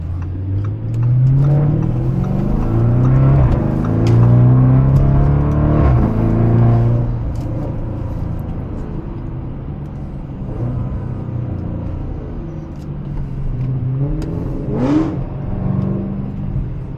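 Novitec Lamborghini Urus widebody with a Gintani Stage 2 tune accelerating, its engine note climbing through rising revs and gear changes, with a deep droning rumble heard from inside the cabin, loud and with no talk.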